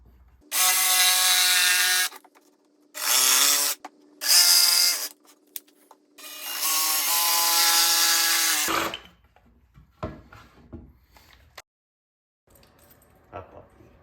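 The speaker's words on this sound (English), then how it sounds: "I'm just gonna use my jigsaw and I'm gonna follow my lines." A jigsaw cuts wood along marked lines. It runs in four loud, buzzing bursts of a few seconds each, separated by short pauses, then stops, leaving faint handling clatter.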